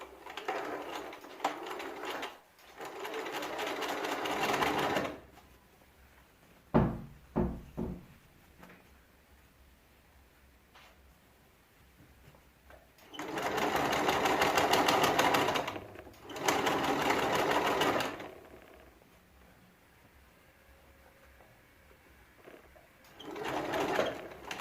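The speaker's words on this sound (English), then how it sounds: "Grab them and then stitch." A sewing machine stitching in a zip runs in several bursts of rapid mechanical whirring, broken by pauses filled with small clicks and handling of fabric and machine parts.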